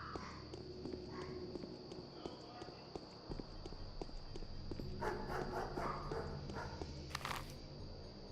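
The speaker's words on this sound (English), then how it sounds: "Dogs are barking." Dogs bark in the video game Pathologic with short, repeated yelps over a constant high-pitched ambient tone, joined by scattered steps and a burst of louder noise near the end.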